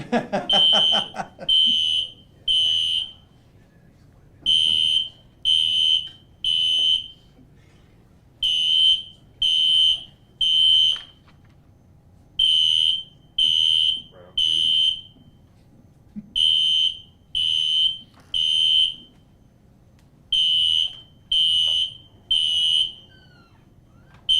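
A smoke-type fire alarm goes off indoors during a law enforcement presentation, sounding loud, high-pitched beeps in repeating groups of three with brief gaps between, continuing steadily throughout with faint room noise underneath.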